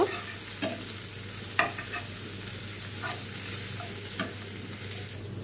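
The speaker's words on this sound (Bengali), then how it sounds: "পেঁয়াজটা আমি লাল লাল করে ভেজে নেব।" Three or four large chopped onions fry in soybean oil with a steady, soft sizzle, broken by a few sharp scrapes and taps of a stirring spoon against the pan.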